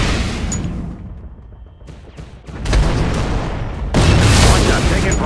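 Gunfire and explosions in the video game Shadow Strike, with dense bursts and heavy booms that build in loudness over a rumbling battle backdrop.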